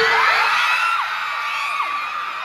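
A live crowd at a Joshua and Julia fan event in Cebu cheers and screams continuously, with high-pitched shrieks and whoops rising over a dense, loud wall of voices.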